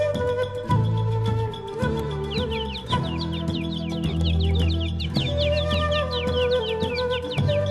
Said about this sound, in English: I never did find out the name of this beautiful bird.